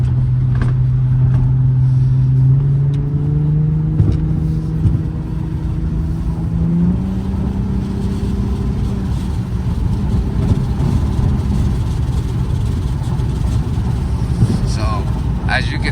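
An Infiniti G35 engine that needs new spark plugs runs with a loud, close, uneven low drone, pitch shifting as it revs, while someone talks over it.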